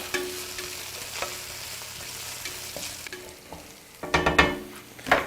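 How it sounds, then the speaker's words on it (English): Spoon stirring coconut chicken curry in a hot pan, with soft scraping and a steady sizzle of frying underneath, then louder clattering scrapes near the end. "Just going to stir that round a wee bit."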